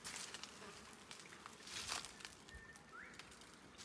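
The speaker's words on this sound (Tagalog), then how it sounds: "May kuta ng bubuyog dito." Faint buzzing of bees near a nest by a dry riverbed in Australia hovers close by, with a brief bird chirp amid quiet outdoor ambience.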